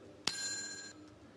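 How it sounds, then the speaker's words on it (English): A single bell strike rings out clearly with a bright metallic ding that sustains for about half a second before fading, quiet and alone, rung to trigger a digital AI baby. "let's see what happens now when I do the bell"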